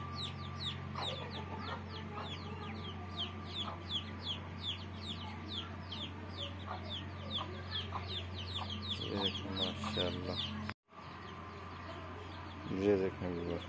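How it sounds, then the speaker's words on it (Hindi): Hens, a rooster and chicks on a farm, a busy chorus of rapid peeping chicks with clucking hens and an occasional rooster call, close and continuous over a low hum, cutting out briefly near the end. "ये देखें व्यूअर हमारे मुर्गी के बच्चे हैं"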